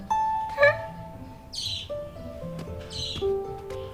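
Small birds chirp in a Ming-dynasty palace drama, with several short, high tweets and trills spread unevenly over a few seconds against a quiet, faintly toned background.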